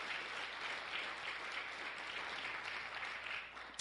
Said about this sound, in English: one more round of applause for all of our award recipients tonight